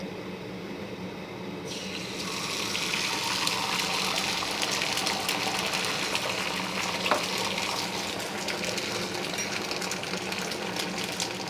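An omelette fries in oil on a tawa, giving a steady broadband sizzle that swells after the first couple of seconds and holds close and continuous, with a faint click near the middle.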